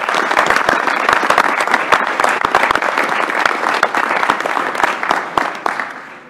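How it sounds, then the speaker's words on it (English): Audience at a university board of regents meeting applauds, with close, sharp individual claps standing out over a dense crowd patter that stays loud and steady, then eases slightly near the end. "So let's just give him a round of applause."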